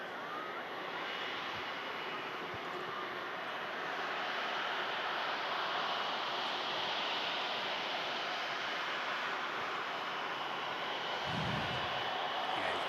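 Emirates airliner departing Manchester Airport under cloud, a broad steady jet engine roar from a distance that swells slightly and holds, with a brief low rumble near the end and no talking.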